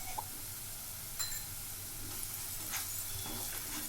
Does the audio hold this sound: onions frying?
yes